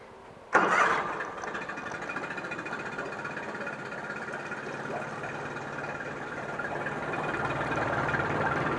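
A 2004 Yamaha 25hp four-stroke tiller outboard boat motor starts with a sharp crank and catches, then settles into a steady, close mid-pitched idle that rises slightly toward the end.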